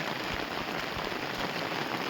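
Heavy rain pours steadily onto a farm field, a dense, even hiss of drops that stays loud and constant throughout with no voices.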